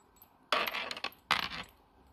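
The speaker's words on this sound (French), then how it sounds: "Désolée pour le bruit des marqueurs." Two quick bursts of hard plastic items clattering and rattling on a tabletop, close and fairly loud, with quiet between them.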